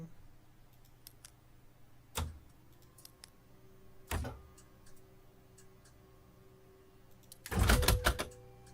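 Sparse cockpit button and switch clicks in the Fenix A320 flight simulator, a few sharp isolated clicks spaced seconds apart over a quiet hum, ending with a louder burst of rapid clicking.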